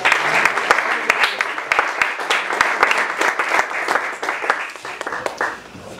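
A church congregation claps and applauds continuously for several seconds, a dense, lively patter of many hands.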